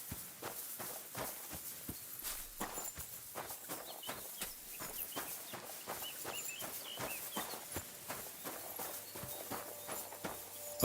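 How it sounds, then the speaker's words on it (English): A horse's hooves clip-clop steadily along a path as it is led, giving an even walking rhythm of sharp knocks at moderate distance, with faint birds and a soft background hiss. "Somebody untied the horse and led him along the path."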